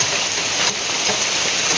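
Steady rain falls in a remote, misty village, a dense even hiss of drops on surfaces that holds constant throughout at moderate loudness, with no voices.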